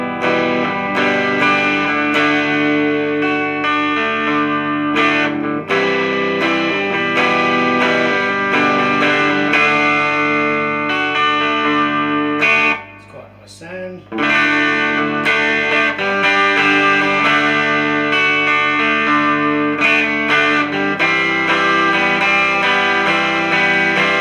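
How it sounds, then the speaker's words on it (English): Electric guitar played through a Vox Cambridge 50 modelling amp on its Deluxe Clean setting, which models a Fender Reverb, ringing chords and picked notes sustaining continuously, with a brief near-silent gap partway through before playing resumes. "we go through from the Deluxe Clean, which I believe is supposed to be modelling a Fender Reverb."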